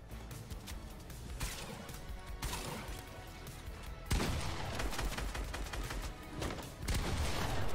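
Gunshots in the video game Fortnite, a rough clatter of shots and impacts layered over continuous game noise, loud and close, with a heavier burst partway through and no one speaking.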